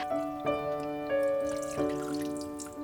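Cold water and coconut water pour into a pot holding chicken, ginger and dried herbs for a Chinese herbal chicken soup, making a steady close splashing and trickling with a ringing tonal quality and a few brief bursts.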